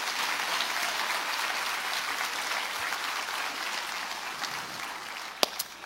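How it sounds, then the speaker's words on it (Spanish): A church congregation applauding, dense continuous clapping throughout, fairly loud and even, with a couple of sharp isolated claps near the end. "Dale más fuerte ese aplauso al Señor."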